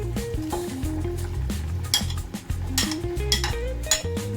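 Raw prawns go into a pot of boiling prawn chilli curry and are stirred, with metal spoon clinks and scrapes against the pot over a steady cooking background.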